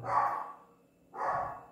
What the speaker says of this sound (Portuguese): tem uns cachorros latindo aí